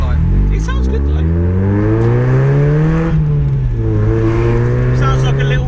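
A Mazda MX5 fitted with twin cherry bomb exhausts drives past, its engine note steady and raspy and rising and falling with throttle. It is loud and close, with voices audible underneath.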